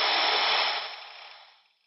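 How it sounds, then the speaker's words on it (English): Receiver static from a Koolertron 60 MHz signal generator setup as the carrier level changes, a loud broadband hiss that fades steadily away to near silence within two seconds. "You can hear the noise picking up."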